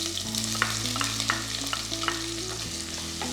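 Chopped onion, about a cup, goes into hot oil with whole spices for Donne chicken biryani, giving a steady close sizzle with a few sharp crackles and stirring scrapes, and no one talking.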